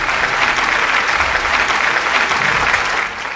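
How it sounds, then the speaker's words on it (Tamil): Loud, dense applause from an audience at a stage event as a Mr. Universe titleholder is welcomed up, continuous and full for the whole stretch with no talk over it. "உங்களின் கைத்தட்டல்களோடு."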